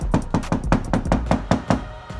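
Knuckles rap about a dozen times in a quick, even rhythm on an untreated car trunk lid, each knock loud, close and hollow-sounding with no talk.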